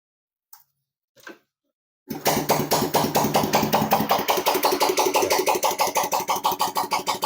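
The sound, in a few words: Yamaha Jupiter Z motorcycle engine starting and idling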